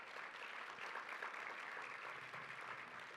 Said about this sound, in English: let's give a round of applause to Feeding Tampa Bay.